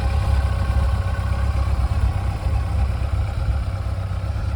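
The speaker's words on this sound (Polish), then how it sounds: "Widać, silniczek bardzo ładnie reaguje." Idling engine of a well-maintained Yamaha FJR motorcycle, an open full-power model, holding a steady low rumble up close with a faint mechanical clatter and no voices.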